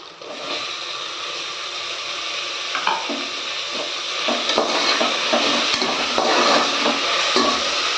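Tomatoes frying in a pan for chicken biryani, with a constant loud sizzle, intermittent stirring scrapes and light clinks of a utensil against the pan, building slightly louder toward the end.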